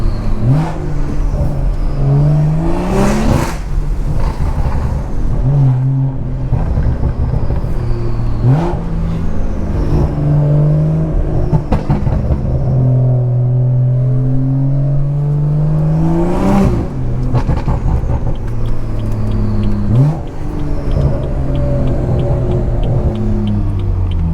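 A BMW 340i with the B58 inline-six engine revs repeatedly from inside the car, loud and close, climbing through gears with rising pitch sweeps, sharp pops and crackling burbles on lift-off between pulls.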